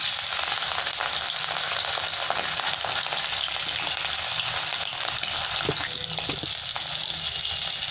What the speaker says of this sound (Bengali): এই মাছের মাথাগুলো ভেজে নিচ্ছি। আমি নুন হলুদ মেখে সর্ষের তেলে ভেজে নিলাম